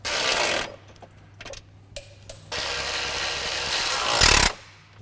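A handheld power tool tightens bolts on the bumper brackets of an Ironman 4x4 premium front bumper on a 2022+ Toyota Tundra, in several loud close bursts of whirring separated by short pauses and small clicks.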